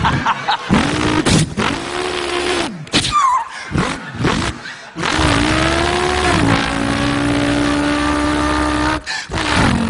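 A voice imitates a V8 car engine revving, with loud, sustained roaring revs that rise and fall and break off in short gaps, close to the microphone and not covered by talk.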